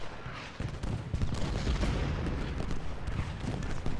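Skirmishers firing in the Ultimate General Gettysburg game, a dense rolling crackle of musketry with low booms, continuous and fairly loud, no talking.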